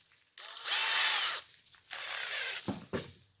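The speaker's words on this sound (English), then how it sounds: "just going to take a plug cutter, run that down, and that'll be our countersink" A plug cutter in a power drill bores a countersink in wood for serving tray handles, with two sustained whirring bursts of drilling followed by short clicks and knocks, close up and without speech.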